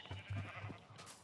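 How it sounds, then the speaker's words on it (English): Minecraft sheep bleating in short, quiet, repeated bleats over about a second, faint and alone. "So many sheep are out of the pen."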